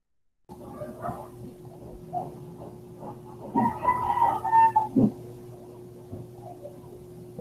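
Chickens cluck and a rooster crows in the background, a faint, continuous barnyard chatter with a louder crowing burst midway, under a steady electrical hum.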